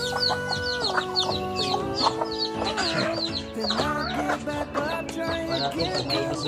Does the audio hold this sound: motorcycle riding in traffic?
no